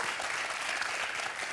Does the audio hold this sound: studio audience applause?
yes